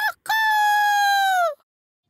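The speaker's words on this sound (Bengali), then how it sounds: "এই নতুন মোরগটা আবার কি, যে এই ফ্রিতে নিমন্ত্রণ খেতে চলে এসেছে?" Rooster crowing in the Motu Patlu cartoon, one long clear sustained crow that bends downward at the end, loud and alone after a brief sound at the start.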